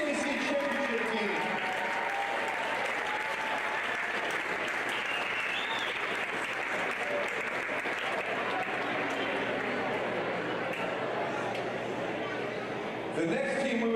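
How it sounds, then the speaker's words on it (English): Sustained applause from a gym crowd honoring the Tabor KCAC championship football team during a men's basketball game, steady and full for about fourteen seconds before easing off near the end. "How about one more round of applause for our Tabor football KCAC championship team?"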